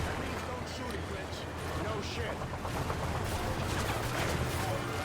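Gunfire in Call of Duty: Modern Warfare 3, with a rattle of shots and bursts over a busy battlefield din, mixed with voices.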